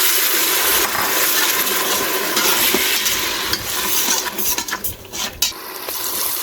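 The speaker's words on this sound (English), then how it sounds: "So I'm going to add all this into the onions. And we're going to let it saute for about a couple of minutes." Onions with ginger garlic and garam masala sauteing in a pan, a loud continuous sizzle with a few scraping stirs and light clinks toward the end, close and without speech.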